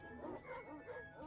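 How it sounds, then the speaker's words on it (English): A dog in the video game Stray Gods gives a short, close whining bark with rising and falling yelps over about a second, fairly soft. "So the dog for me is a hydraulic dog that has a platform."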